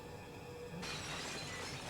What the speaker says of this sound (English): that glass was real glass because we couldn't afford breakable